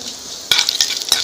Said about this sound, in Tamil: இந்த ஜீரகம் பொரியுதா